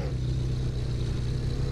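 A car engine idles with a steady low rumble and faint clatter in the Car For Sale Simulator game, close and continuous with no talking.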